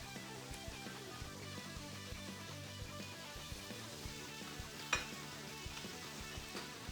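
Carrots sizzle in a hot, high-sided braising pot, a steady low crackle and hiss with small scattered pops and one sharper spike near the end, moderately close and with no voices.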